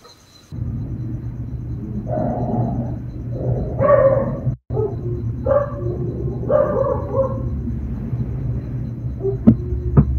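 Low, rumbling growls rise and fall over a steady hum, a few guttural bursts close by, with a brief dropout midway.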